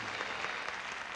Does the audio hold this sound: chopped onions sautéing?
no